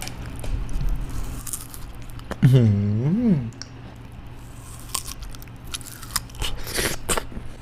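Close crunchy biting and wet chewing, with a brief hummed vocal sound in the middle and light background noise.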